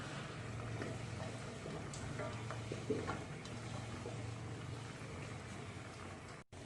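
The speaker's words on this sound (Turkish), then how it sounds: "Malzemelerimi kattıktan sonra şöyle güzelce bir tur karıştırıyorum" Green bean stew ingredients are stirred in a pot, quiet wet shuffling with a few soft knocks against the pot over a low steady background hum.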